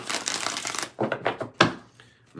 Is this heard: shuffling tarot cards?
yes